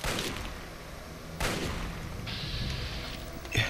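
Gunfire in the Fallout 3 video game: a steady wash of game combat noise with a sharp burst near the middle and another toward the end, moderately loud with no talk.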